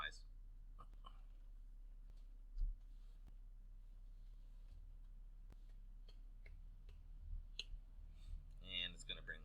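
Computer mouse clicks while navigating a CMS site's customize settings, a series of sharp, quiet, irregularly spaced ticks over low background hum, with a brief burst of activity near the end.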